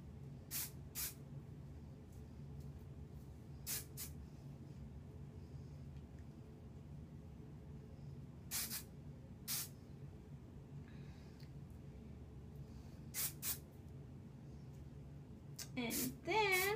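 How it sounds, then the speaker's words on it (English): Hairspray sprayed onto a curly side updo in repeated short hissing bursts, some paired, spread over a quiet room background with a brief louder rustle at the end. "we're gonna spray it."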